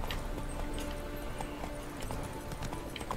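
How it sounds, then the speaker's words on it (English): Roach's hooves clop steadily in The Witcher 3, a quick, even rhythm of hoofbeats under a low ambient bed, fairly faint and continuous. "Spooking my horse."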